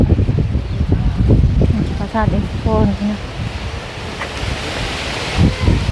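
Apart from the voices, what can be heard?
dry wind blowing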